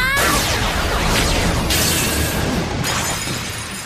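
A cartoon sound effect of a Beyblade part shattering, a loud sustained crash of breaking and scattering debris with a sweeping whoosh, dense and continuous throughout.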